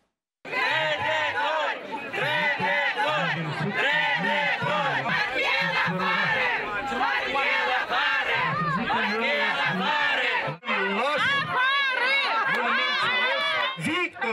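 A large crowd of villagers gathered at a village church, booing and shouting at a bishop, a loud, continuous mass of overlapping voices lasting the whole stretch with only a brief dip near the end.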